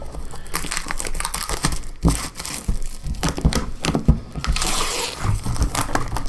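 Crinkly plastic cellophane wrapper being torn and crumpled off a Warhammer Quest: Silver Tower board game box, a close, continuous rustling with sharper tearing bursts throughout, no talking.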